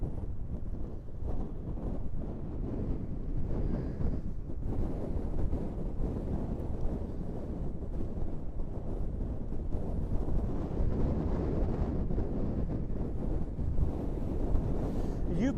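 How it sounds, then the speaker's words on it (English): Extremely strong wind on an exposed Scottish coast: a constant loud rumbling buffet of gusts battering the microphone, with a faint hint of surf beneath and no clear voices. "I'm not taking him much higher than that because of the extremely strong wind."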